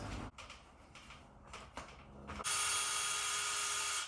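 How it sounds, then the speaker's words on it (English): Short bursts of a power drill and clicking while drilling holes in an unfinished garage ceiling, then a sustained high-pitched drilling whine for the last second and a half, loud and close. "So I'm gonna drill some holes real fast."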